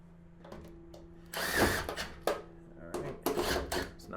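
Power drill driving self-tapping screws into a wall, several short whirring bursts with pauses between them, close by, over a low electrical hum.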